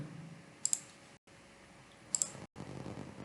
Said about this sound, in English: So I'm clicking the button